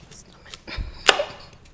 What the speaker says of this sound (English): as I'm cutting this, I'm gonna cut it in half, and I kind of like my carrots sliced